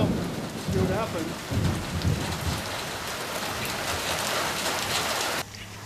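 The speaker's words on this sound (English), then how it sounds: "A little bit of hail." Heavy rain pours steadily on a surface during a thunderstorm in an off-grid village, with a low rumble of thunder early on and a dense, close hiss that cuts off abruptly near the end.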